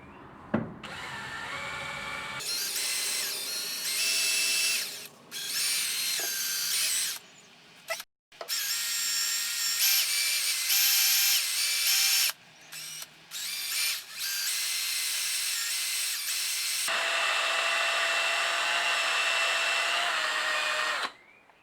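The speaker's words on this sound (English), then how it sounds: "let's clean the valve. Here's my Scotch pad that I had earlier." A Honda Bros NT400 engine valve is cleaned with a Scotch pad, apparently spun by a power tool, producing bursts of high-pitched whirring and abrasive hiss that stop and restart several times, close and fairly loud.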